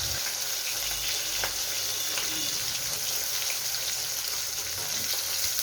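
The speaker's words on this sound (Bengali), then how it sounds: "এই পিঠটা মোটামুটি হয়ে গেছে, উল্টে দিলাম। এবার পরের পিঠটা আর একটু ভাজা হবে" Pieces of rohu fish fry in a pan with a constant, even sizzle and light crackle, heard close and unbroken, with a few soft clinks and low thumps early on.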